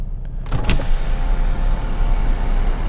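Power windows whir down inside a tuned Saab over a steady engine and road rumble, with a faint click as they start.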